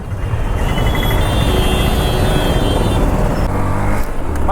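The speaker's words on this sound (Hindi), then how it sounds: "ये ट्रैफिक कभी ख़त्म होगा गाइस" Dense, steady road traffic in Surat heard from a moving motorcycle, with a constant rumble of engines and passing vehicles close by and loud throughout, wind and engine noise blending with no speech.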